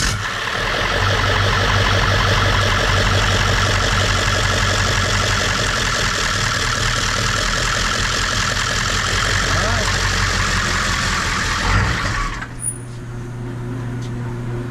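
A 1996 Ford F-250 Power Stroke diesel being worked on for a no-start cranks and runs with a loud, steady rhythmic chugging for about twelve seconds, then cuts off abruptly, leaving faint background noise.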